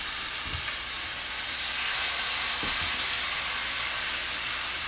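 Marinated steaks frying in hot oil in a pan, a loud, continuous close sizzle and hiss with a couple of soft thumps.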